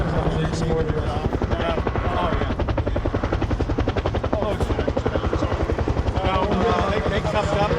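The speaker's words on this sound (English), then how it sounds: "from the right-hand side, we have the UH-1 quick reaction force coming in." A UH-1 Huey helicopter comes in with a steady, loud rotor chop and turbine whine that continues throughout, near and dominant with no pauses.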